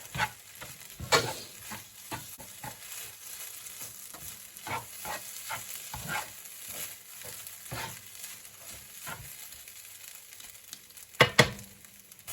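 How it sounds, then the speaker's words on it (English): Jerk mushrooms stirred in a hot pan for a bulgur stir fry, a soft steady sizzle with scattered scraping stirs and two louder knocks near the end. "So in goes my mushroom. Going to give those a quick stir."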